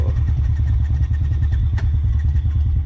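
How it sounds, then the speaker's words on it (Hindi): A motorcycle engine idles steadily and loud close by on a mountain road in Uttarakhand while the bike is stopped for a breakdown repair, a continuous low throbbing with one brief sharper knock partway through. "विश्वेंद्र भाई की बाइक में कुछ लगता है प्रॉब्लम हो गई है"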